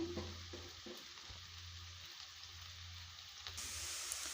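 Steady sizzle of onions being sautéed in a pan for roadside-style tomato kurma, a continuous close frying hiss with occasional stirring scrapes, no talking.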